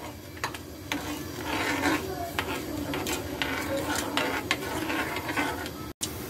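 Ghee and sugar syrup with coarsely crushed fennel seeds coming to a boil in a pan, stirred with a spoon: steady bubbling under repeated scraping and clinking strokes against the metal, fairly close and moderately loud.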